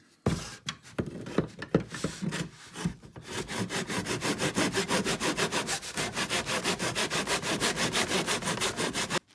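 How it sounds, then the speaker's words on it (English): A saw in a miter box cuts through a stack of trading cards, sounding as steady rapid back-and-forth rasping strokes that grow louder and more regular after a few scattered knocks and scrapes. "take the miter box and let's just get them in there"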